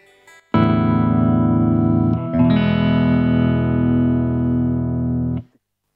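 A Gibson Dusk Tiger electric guitar is strummed as it tunes itself to standard tuning: a loud sustained chord rings, a brief dip and a re-strum follow, then the chord holds steady and cuts off cleanly.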